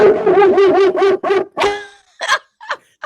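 A dog barks in a quick run of loud, close yaps and yips, then breaks off into a few shorter, scattered barks at the end.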